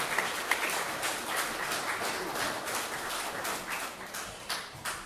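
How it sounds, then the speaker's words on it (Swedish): An audience applauds steadily throughout at a folk accordion music event, a dense even wash of many hands clapping, moderately loud and continuous. "Ge Robert en applåd."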